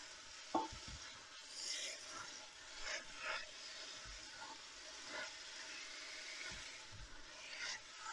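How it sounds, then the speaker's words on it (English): Lamb mince with onions and spices cooks in a pan as it is stirred, giving faint scraping and clinking of the utensil over a quiet, low sizzle. "we're going to stir that in nicely"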